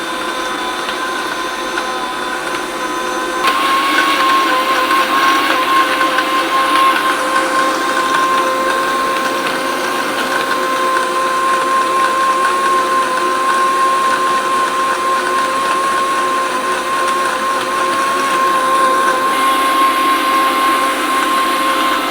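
Mixer grinder blending, a loud continuous motor whir with a steady high whine that starts a few seconds in and runs unbroken for the rest of the clip.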